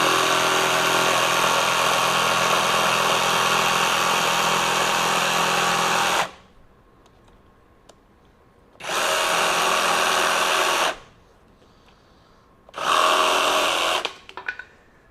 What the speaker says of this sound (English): Let's turn this blower on.